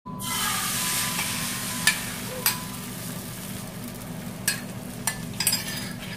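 Crepioca batter sizzles steadily in a heated frying pan, a continuous close hiss with a few sharp clicks and taps of a utensil scattered through it, no voices.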